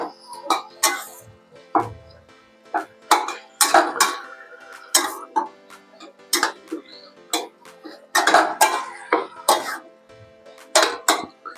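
Dates being stirred into half-cooked tomatoes in a pan for tomato khatta, heard as a steady series of short, close spoon-and-pan clicks and scrapes in an irregular rhythm, with no talking.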